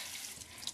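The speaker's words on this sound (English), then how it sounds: "you can always rinse them under cold water like this" Cold tap water runs over dandelion greens in a kitchen sink, a brief steady hiss of flowing water, fairly faint.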